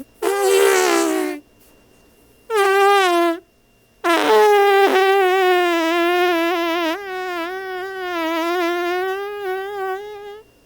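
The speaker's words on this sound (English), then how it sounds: "sounds that just sound like him farting" Squeaky, buzzing cartoon-creature vocalizations from the animated film Strange World in three bursts, the last long and wobbling in pitch, sounding like comic fart noises; no talking.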